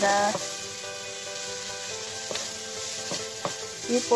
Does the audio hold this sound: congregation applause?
no